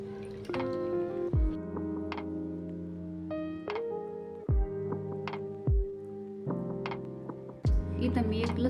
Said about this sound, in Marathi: चला आता आपण हा कोबी धुवून घेतलेला आहे. आता आपण हा पिळून घेऊया छान असा.